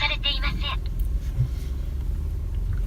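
Interior of a 2014 Toyota Land Cruiser Prado 150 series on the move, a steady low rumble of engine and road noise filling the cabin, with a brief voice near the start.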